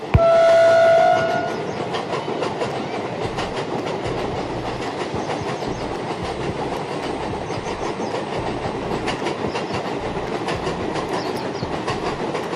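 A loud train horn blasts briefly at the start, then the Secunderabad–Goa express train rumbles past with continuous rattling and clacking of wheels on rails.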